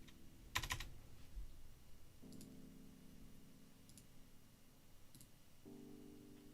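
Typing on a computer keyboard, a few faint scattered key clicks and one sharper tap near the start, very quiet over a low steady hum with no speech.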